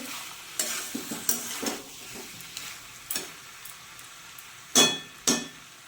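Vegetables and spices frying in a pan for a vegetarian jackfruit curry, a low sizzle under repeated scraping stirs of a spoon, with a few sharp metallic clinks against the pan toward the end.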